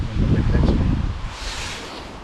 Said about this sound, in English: I haven't been able to film much because it's been that windy.